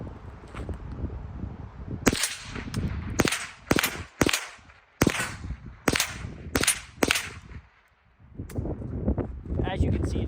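Roughly eight sharp, loud shots from a Henry survival rifle fitted with 3D-printed upgrades crack out at an uneven pace, with rumbling outdoor background noise between and after them.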